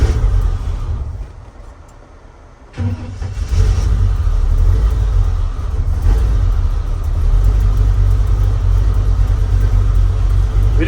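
A 1959 GMC ramp truck engine idles on a cold morning, a steady low rumble that drops quieter briefly, then settles into a louder, even idle close by for the rest.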